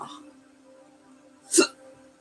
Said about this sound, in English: Excuse me for my hiccups.